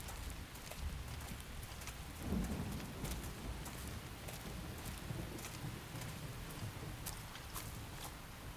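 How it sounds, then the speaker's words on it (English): Steady rain with low rolling thunder in the Xenoblade Chronicles X video game, a constant faint hiss of falling drops with a soft rumble swelling briefly, no voices. "The rain's starting to let up, just in time for sunrise."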